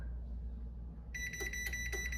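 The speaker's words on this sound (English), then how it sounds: "It'll start beeping and the lights will blink to let you know that it's about to close." A Chamberlain LW5000EV garage door opener's close timer starts beeping, a steady series of sharp electronic beeps that comes in partway through over a low background hum.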